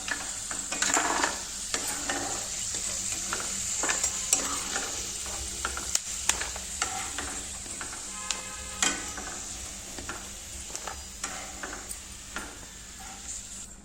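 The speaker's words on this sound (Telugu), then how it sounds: "ఇదే నేతిలో ఇప్పుడు బొంబాయి రవ్వ వేపుకుందామండి." Bombay semolina (sooji) roasting in ghee for ravva laddu, with a steady soft sizzle and frequent scraping stir strokes of a spoon against the pan, close and continuous, with no talking.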